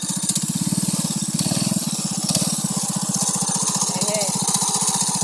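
A small single-cylinder engine on an Alaska minibike doodlebug chugs at a rapid steady putter, loud and close, with voices heard faintly over it.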